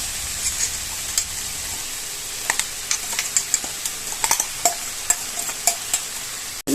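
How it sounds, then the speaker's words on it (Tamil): Ground masala is stirred into ponnanganni greens in a pan, soft sizzling under a series of sharp scraping and tapping strokes of a spoon against the pan, irregular and close. "இப்போ இந்த மசாலாவையும் கீரையோடு சேர்த்துக்குவோம்."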